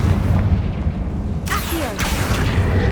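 Confringo fire spell detonating in Hogwarts Legacy, a loud rumbling blast with a deep low-end boom followed by crackling bursts.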